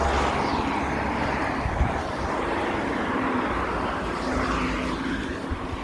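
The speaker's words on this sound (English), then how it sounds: "There's just cars that are passing by. Kind of noisy." Traffic passes by outdoors as a broad, noisy rumble that swells and fades gradually, loud and continuous with no clear gaps and no voice over it.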